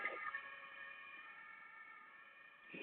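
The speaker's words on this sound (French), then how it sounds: "Je vais passer la sirène, j'ai la porte grande ouverte." A siren wails steadily from outside through a wide-open door, faint and distant, its sustained tone holding for several seconds with no talk.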